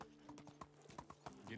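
Horse hooves clip-clopping at a steady walking rhythm in the medieval village game Medieval Dynasty, close and fairly quiet, with a brief snort near the start.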